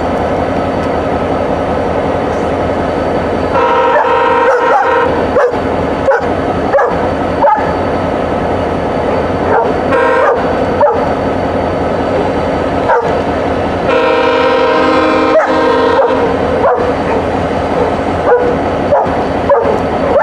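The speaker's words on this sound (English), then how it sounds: "he's barking at it." A dog barks repeatedly in sharp bursts over a steady mechanical rumble of passing VIA and GEXR trains, with a louder tonal stretch partway through.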